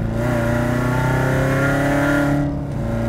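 A Corvette's exhaust, in open mode, roars loudly as the engine revs, a sustained throaty drone that rises in pitch before briefly dropping off.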